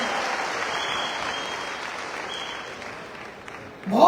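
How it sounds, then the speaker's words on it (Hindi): An audience applauding at a network-marketing business seminar, a dense sustained clapping from a crowd that gradually thins and fades, ending with a brief loud knock. "एक बार दोस्तों सभी के 2 तालियां हो जाए"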